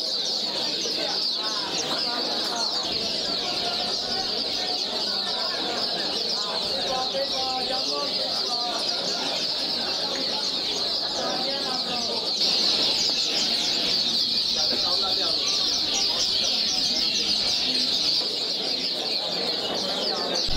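Dense bird calls, chirps and clucks keep up without a break around a bird-singing competition line. Voices talk under the steady chorus throughout.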